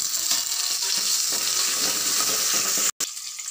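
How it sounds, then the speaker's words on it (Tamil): Bay leaf, curry leaves and large onion drop into hot oil for a mint biryani, giving a close, steady, crackling sizzle throughout, with a tiny break near the end and no speech. "எண்ணெய் காஞ்சிருச்சு, பிரிஞ்சி இலை, கருவேப்பிலை, பெரிய வெங்காயம்,"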